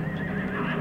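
A horse whinnies in a short, steady burst of fairly loud, sustained sound, with no talk.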